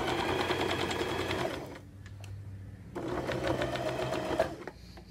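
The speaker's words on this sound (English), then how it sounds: "I'm going to push it upward and sew over it that way." A sewing machine stitches over a seam on mittens made from thrifted wool sweaters: a rapid, even mechanical whir running in two close, fairly loud bursts, separated by a pause of about a second.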